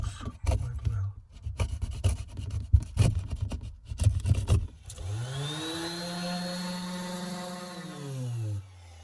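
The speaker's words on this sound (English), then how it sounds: "I can just try first cut it with a knife" A knife slices away sharp edges of cured epoxy resin on a cracked boat hull, giving a run of close, uneven scraping and rasping strokes for about five seconds, followed by a steady whining tone of another tool.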